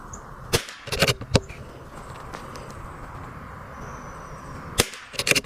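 .22 precision rifle firing Eley Contact ammunition: a few sharp gunshot cracks spaced a second or several apart, with quiet background between and a quick double report near the end.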